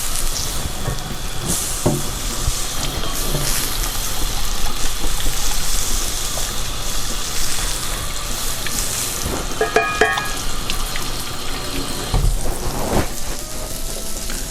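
Kitchen tap running during washing up, a steady broadband rush of water with occasional clinks and clatter of dishes, loud and close throughout.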